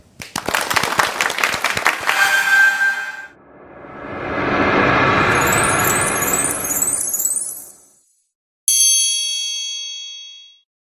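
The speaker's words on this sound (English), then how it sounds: "Can we have a big round of applause for all of them?" Crowd applause for panel speakers at a virtual corporate event swells up and fades over several seconds, preceded by bright chiming dings and followed by a single ringing bell tone.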